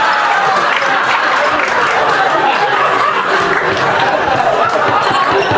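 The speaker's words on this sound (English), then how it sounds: "Give this guy a round of applause." Dense, continuous clapping from a stand-up comedy club audience, steady and loud throughout, with some chatter and laughter mixed in.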